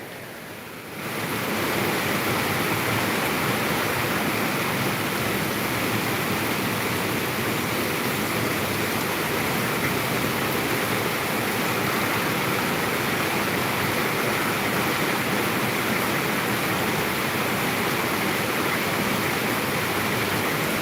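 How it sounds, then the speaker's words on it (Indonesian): Steady heavy rain pours down in a dense, unbroken hiss that starts abruptly and stays loud throughout, with no voices. "Di sini hujan"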